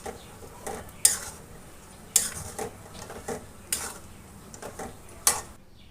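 A metal spoon scrapes and knocks against a pan while chicken rezala with yogurt gravy is stirred, giving several sharp clinks at irregular intervals over a soft, steady sizzle.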